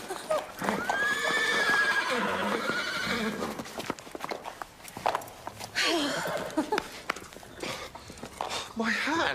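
A horse whinnies loudly in long, wavering neighs, with hooves clip-clopping and people talking over the noise.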